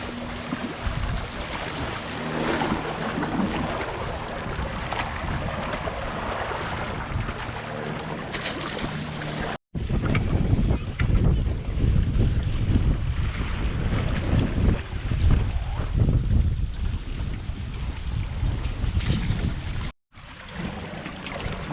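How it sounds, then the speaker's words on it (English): Strong wind buffets a fishing boat on the Hudson River, a steady loud roar of gusts and microphone wind noise with water sloshing underneath, briefly cutting out twice. "Today is really windy too,"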